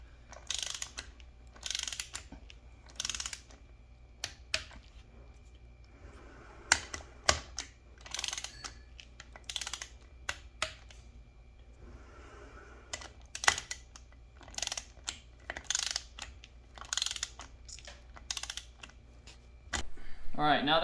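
A torque wrench tightens the bolts on a Method beadlock wheel with repeated short bursts of ratchet clicking, evenly spaced, separated by quiet gaps with faint handling noise and an occasional low voice.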